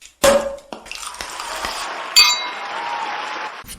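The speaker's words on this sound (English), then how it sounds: "But so for you, Daniel, I'm going to give you the loudest champagne cork pop I can find." A champagne cork pops sharply and loudly, close up, then bubbly fizzing and faint glassy clinks carry on for a few seconds.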